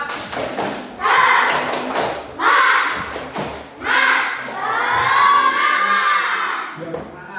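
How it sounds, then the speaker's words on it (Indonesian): A classroom of students does a rhythmic spirit clap, bursts of unison clapping and thumping in short repeated phrases, with children's voices chanting along in loud waves. "biar semangat lagi kita akan melakukan tepuk semangat"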